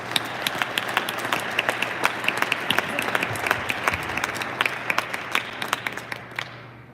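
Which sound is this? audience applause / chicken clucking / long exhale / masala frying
audience applause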